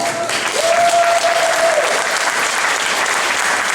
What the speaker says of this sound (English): Everybody, one big applause for Isabella,